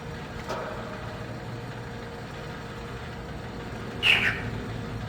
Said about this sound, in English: Chirpy frog sound.